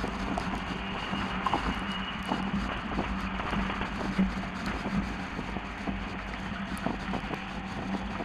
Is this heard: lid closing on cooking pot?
no